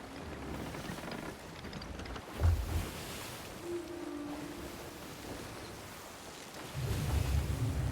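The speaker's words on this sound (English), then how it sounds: "Well, I guess we're sailing into that storm." A stormy sea while sailing in the Sea of Thieves video game, with a steady wash of waves and wind, a low rumble of thunder midway and a heavier surge of water and rumble near the end, with no talking.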